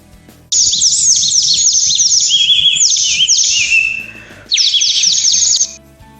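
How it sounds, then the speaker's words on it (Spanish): Chirping, tweeting bird calls used to summon wild birds ring out in loud, rapid, sweeping trills close by, one long burst followed by a shorter one after a brief pause, with no talk. "para llamar a unas aves que nos van a venir aquí"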